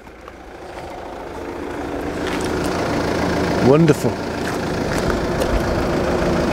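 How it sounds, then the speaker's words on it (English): A Volvo V40's engine idles with a steady low rumble that grows slightly louder, while a person briefly speaks over it. "Let's keep that engine running"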